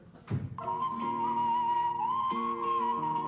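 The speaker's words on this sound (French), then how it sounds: "je suis capable de siffler en suçant" A sustained, wavering whistle with a slightly breathy, inhaled tone, held steadily for a few seconds after a short intake of breath.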